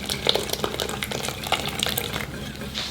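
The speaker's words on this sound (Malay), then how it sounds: "barulah masukkan air gula yang dah suam-suam kuku tu" Lukewarm sugar syrup pours slowly into flour batter for a burnt-sugar honeycomb cake while it is stirred, giving a steady wet, sloshing hiss with small clicks of mixing throughout, close and continuous, with no talking.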